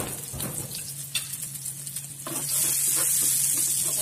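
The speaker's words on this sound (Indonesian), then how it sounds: "Kalau sudah cukup panas, kita tumis bawang putih dan bawang merah." Garlic and shallots sautéing in hot oil with stirring, scraping and light sizzle at first, then a louder, dense frying hiss taking over for the last seconds.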